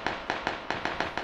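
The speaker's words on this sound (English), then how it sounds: "There's a lot of shooting going on right now." Gunfire in the battle royale game PUBG, a quick string of seven evenly spaced sharp shots, loud and close with no voices over them.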